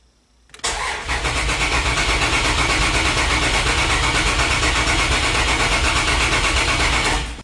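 A Dodge Dakota's 3.9 engine, fitted with a Megasquirt install, cranks hard and continuously for several seconds, a loud steady churning with no talk over it.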